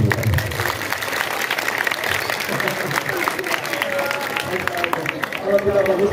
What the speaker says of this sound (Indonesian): Tepuk tangan kalau bagus mah aku